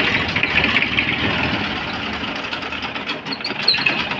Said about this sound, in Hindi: ये देखिए कितनी शानदार और दमदार आवाज ट्रैक्टर की।